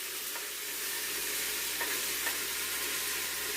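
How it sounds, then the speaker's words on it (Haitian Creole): Garlic frying in hot oil for a Haitian Creole vegetable dish, a steady bright sizzle with a few soft stirring scrapes, close and continuous with no talking. "L'ail là est en frit parce que c'est en chaud."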